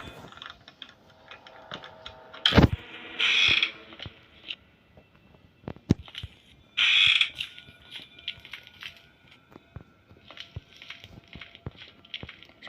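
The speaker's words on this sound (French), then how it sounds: "On va ouvrir sur tous les placards qu'on trouve." Cupboards opened one after another in the horror video game Granny 3: short creaks and a bang, with two louder drawn-out door scrapes over scattered clicking from a keyboard and mouse.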